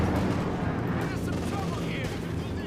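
P-47 strafing gunfire in the Company of Heroes 2 video game, a dense continuous rumble of rapid shots and battle noise under a caster's commentary.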